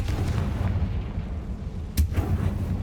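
Confringo fire spell explosion in the video game Hogwarts Legacy, a dense low rumbling burst with a sharp crack near the two-second mark, over continuous game ambience.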